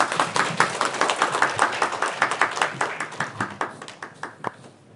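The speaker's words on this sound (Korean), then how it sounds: "김남수 과장님을 큰 박수로 맞이해 주시기 바랍니다" Seminar audience on Gyeonggi Province disability integrated care gives a welcoming round of applause for a speaker, a moderate, fairly sparse patter of distinct hand claps at a steady pace that fades out over a few seconds.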